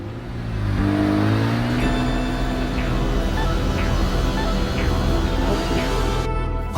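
A Mazda RX-7 FD's rotary engine from Initial D revs and accelerates, a loud rising whine with shifting harmonic tones, sustained for several seconds before cutting off near the end, with no voices.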